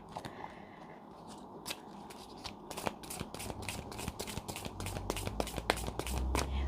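Tarot cards are shuffled in quick riffling bursts, a rapid series of sharp close snaps that grows denser and louder toward the end over a low background rumble, with no talk.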